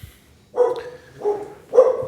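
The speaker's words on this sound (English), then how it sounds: "The dog's barking here." A dog barks three times at a steady pace, each bark loud and close in a quiet indoor room, with short silences between them and no talking.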